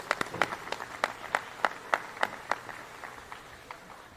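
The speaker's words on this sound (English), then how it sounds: "I'm gonna give you a big round of applause, students, for doing the work." A single person claps steadily, about a dozen sharp claps at an even pace, fairly close and alone.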